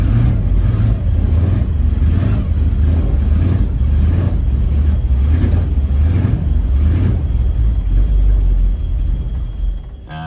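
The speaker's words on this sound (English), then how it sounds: "you kind of gotta feather the throttle a bunch of times to try and keep it running" A Chevrolet Suburban engine running rough as the throttle is repeatedly feathered to keep it from stalling, a loud, close, pulsing low rumble that surges and eases in a steady rhythm before tapering off, with no talking.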